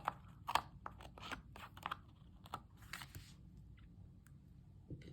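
Scissors snip through paper close up in quick irregular cuts, crisp little crunches with short pauses between them, in an otherwise quiet room.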